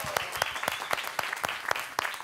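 A live audience claps steadily for musicians in a continuous crowd applause, dense and fairly near, with no clear speech over it.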